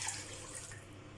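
Water is poured into a pot of pepper rasam soup, a soft, steady hiss and trickle that stays faint and continuous throughout.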